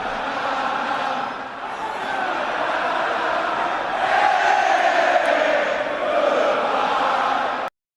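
A packed stadium crowd at World Series Game 7 between the Toronto Blue Jays and Los Angeles Dodgers roars steadily, swelling louder midway through after a three-run home run, then cuts off abruptly.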